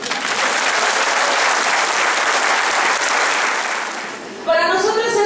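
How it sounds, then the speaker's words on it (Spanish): Loud, dense applause from a group rolls on for about four seconds, then tapers and fades as a voice begins speaking at the end. "Y date un aplauso."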